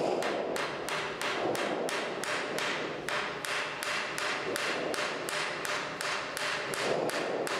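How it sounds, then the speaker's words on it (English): A nylon hammer taps a pulley wheel onto a shaft over a taper bush, a fast, regular series of sharp knocks, about two or three per second, continuing steadily throughout. "You might need to tap it on the shaft again using a nylon hammer or a copper mallet."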